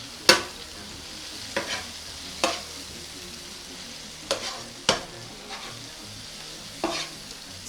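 Meat frying in a pan for assorted meat pies with ginger powder and salt, a soft steady sizzle broken by sharp clacks of a utensil scraping and stirring at irregular intervals, close by and without talk.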